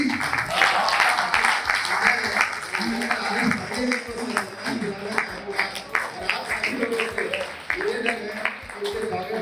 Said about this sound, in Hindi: जोरदार तालियां आप लोग बजाएं।